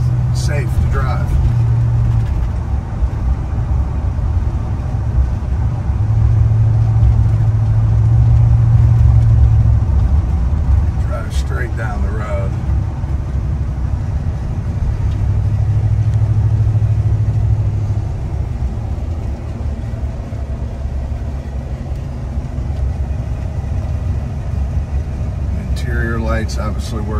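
A 1985 Chevrolet K10 4x4 truck cruises at a steady road speed, giving a continuous low engine and road rumble from inside the cab while someone talks over it throughout.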